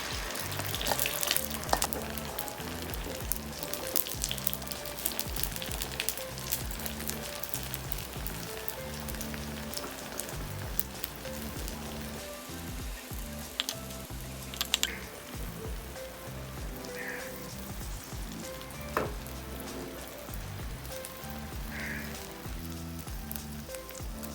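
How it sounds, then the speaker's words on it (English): Egg sizzling in about five tablespoons of hot vegetable oil over low heat for a glass noodle omelette, a continuous dense crackle and spatter close by that stays steady throughout. "After the oil is hot, reduce to low heat and put in your egg."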